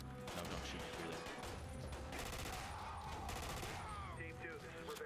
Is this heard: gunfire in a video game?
yes